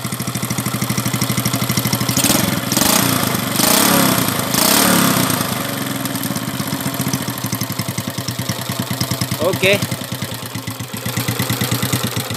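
A motorcycle engine idles after a piston ring and valve repair, its wear blamed on long use of old oil. The close, steady, pulsing idle runs throughout and swells briefly louder early on.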